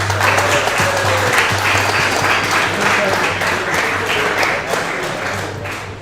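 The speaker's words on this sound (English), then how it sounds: "We're going to clap for you right now." Strong applause from players and staff for parents at a boys' ice hockey event, a steady burst of clapping that tapers slightly toward the end, with some voices underneath.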